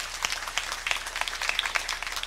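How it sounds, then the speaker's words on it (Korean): Church congregation at a Sunday worship service claps steadily together in praise after a prayer, a dense wash of handclaps with sharp individual claps standing out. "하나님께 영광의 박수를 드립니다."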